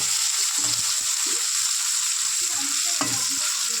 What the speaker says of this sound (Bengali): দিয়ে এটাকে ভালো করে ভেজে নেবো।